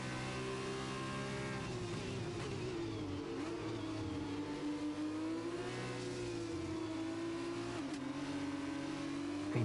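Formula race cars in F1 2021 roar down a long back straight at the China circuit, a steady high engine whine rising and shifting as they accelerate, loud and continuous.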